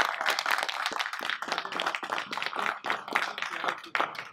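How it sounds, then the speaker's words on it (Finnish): Hands clap steadily through a round of applause for a presenter at an inventions-week pitching competition. A small audience claps with uneven, dense bursts, moderately loud and close. "Hyvä Janille aplodit."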